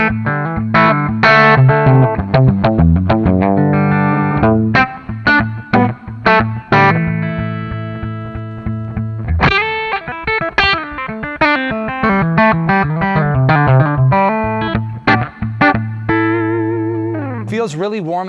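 Electric guitar played through a Jared James Nichols signature Blackstar amp head and cabinet on channel 1, with bass, middle, treble and master at noon and reverb halfway. Sustained loud riffs and chords ring out in bursts, with brief pauses between phrases.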